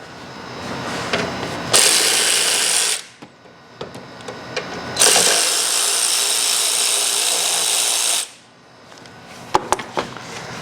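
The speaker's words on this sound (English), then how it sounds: "remove the 10mm bolt holding on this line to kind of give me a little bit more free wiggle room" A ratchet works loose a 10mm bolt on a line of a 2008 Honda CR-V during a valve cover gasket job, with two sustained whirring runs separated by quieter clicks and clanks, heard up close.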